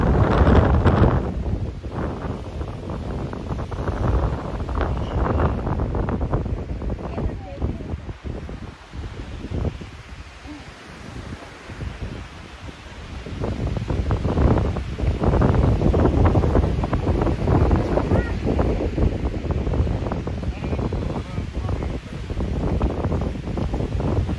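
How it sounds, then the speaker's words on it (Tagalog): Strong, cold wind blows steadily across an open outdoor spot at Banff, a loud broadband roar that gusts and swells throughout with no speech over it. "Lakas ng hangin."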